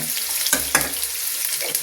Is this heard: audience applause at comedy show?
no